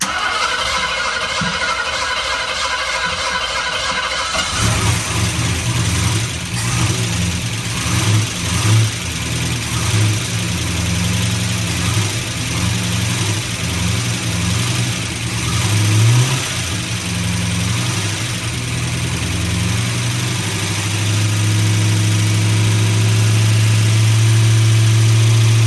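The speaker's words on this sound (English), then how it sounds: "Dad's gonna crank it, and it's just gonna fire right up" A 1974 AMC Hornet wagon fitted with a new cam cranks and fires up after a few seconds, then settles into a loud, steady idle with a slightly lumpy rhythm and brief revs that continue to the end, with no talking.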